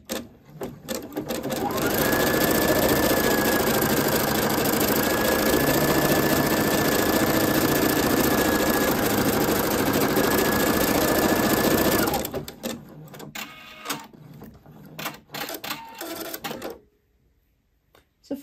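An embroidery machine runs a first outline stitch on tear-away stabilizer in the hoop, a loud, steady high-speed whirring hum lasting about ten seconds before it stops and leaves scattered clicks and handling noises.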